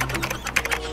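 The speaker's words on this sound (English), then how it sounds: "I can hear you typing." Rapid keystrokes on a computer keyboard, a steady run of light clicking taps lasting about a second, fairly close and alone without speech.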